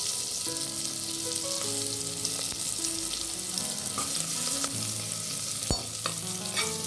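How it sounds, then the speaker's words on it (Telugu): Sliced onions sizzle in hot oil with whole spices, cinnamon, bay leaves and green chillies, a steady broad frying hiss with scraping stirs and occasional clinks of a spoon against the pan, no talking. "ఇప్పుడు ఉల్లిపాయల్ని గోల్డెన్ బ్రౌన్ కలర్ వచ్చేంత వరకు వేపుకుందాం"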